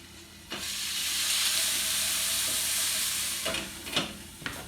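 Roughly chopped onion stirred in a hot pan for French onion dip, a loud, close, steady sizzle that swells after a quiet start, with a few scraping stirs and taps near the end and no talking.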